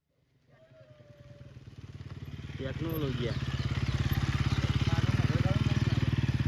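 A motorcycle engine rises from near silence to a loud, steady, close putter beside Thol Lake Bird Sanctuary, with someone talking over it.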